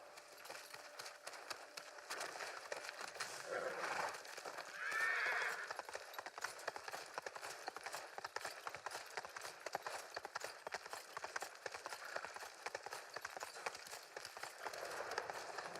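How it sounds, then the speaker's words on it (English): Horse hooves clip-clop in a fast, steady gallop in the video game Ghost of Tsushima, with a neigh rising briefly midway, moderately quiet and without talk. "Majestic jumping horse."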